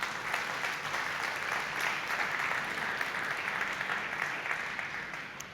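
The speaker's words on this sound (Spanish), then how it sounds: "Denle fuerte el aplauso a Él." Steady applause from a church congregation, a dense continuous patter of many hands held at an even level throughout, no voices standing out.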